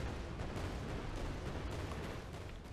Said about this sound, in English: once we start running, the explosion sound is reproduced